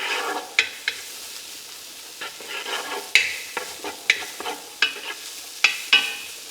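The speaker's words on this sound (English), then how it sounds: "So I'll continue to let that fry for another minute." Bacon and garlic fry in a pan, a soft continuous sizzle broken by loud sharp clinks and scrapes as a utensil stirs, landing in an irregular rhythm close to the listener.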